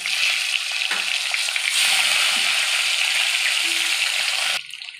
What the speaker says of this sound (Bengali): ডিম ভাজার তেলে আমি প্রথমে আলুগুলো দিয়ে দেবো।